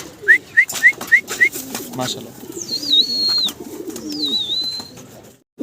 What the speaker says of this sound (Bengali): দর্শক ভিডিও স্ক্রিনে আপনারা আরো এক জোড়া জার্মান বিউটি হোমা দেখতে পারতেছেন